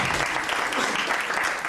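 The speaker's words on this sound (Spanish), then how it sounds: "Un aplauso por favor" A book presentation audience applauds steadily for the whole stretch, a dense, even wash of many hands clapping at a close, fairly loud level with no pauses.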